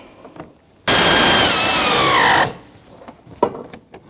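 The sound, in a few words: socket wrench snugging a bolt on Jeep Patriot AC condenser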